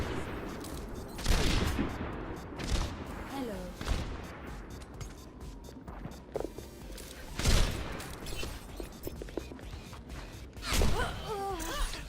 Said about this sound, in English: Gluten gets on the board with a very nice shot